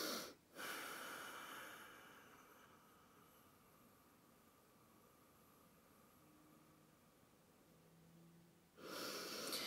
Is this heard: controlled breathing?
yes